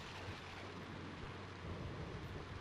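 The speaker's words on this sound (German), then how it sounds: "Es regnet, als würde es kein Morgen gehen." Steady rain with low rumbling thunder from the Diddy Kong Racing video game, a continuous broadband wash that holds an even level throughout with no voices.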